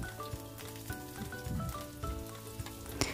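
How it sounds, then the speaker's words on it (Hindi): Finely chopped onion and grated carrot fry in a kadhai with a soft, low sizzle, punctuated by scattered light taps and scrapes from stirring, faint and close. "अब मैं बारीक कटा हुआ प्याज ऐड कर रही हूँ।"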